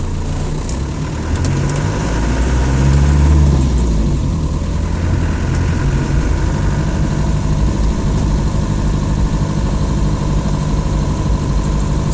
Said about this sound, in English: The unmistakable clatter of a 200 TDI engine.